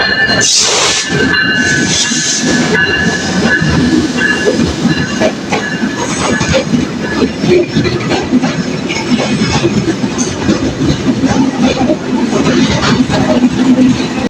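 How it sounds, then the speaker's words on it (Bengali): A train rumbles and clatters close by with clickety-clack wheels, a faint squeal and a brief hiss, loud and continuous throughout, arriving at Chuadanga station platform one. "আমাদের ট্রেনটা চলে এসেছে"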